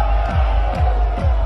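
A large, packed crowd cheers and roars loudly at a DJ set, the din running without a break over deep, sweeping bass pulses from the music.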